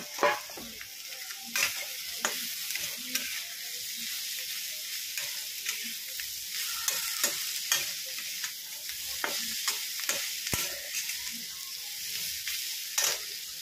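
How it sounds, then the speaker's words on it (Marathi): Cooked chickpeas for bhaji are stirred and fried in a pan. A steady sizzle runs under repeated scraping strokes of the spoon, close and clear with no talking. "त्यानंतर आपण शिजवून घेतलेले छोले टाकून घेणार आहोत।"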